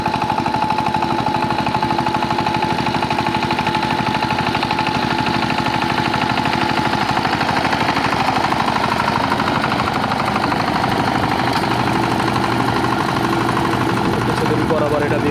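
A Sifang 28 tractor engine runs continuously while ploughing a field, a loud, steady mechanical drone with rapid rhythmic chugging that holds level for the whole stretch.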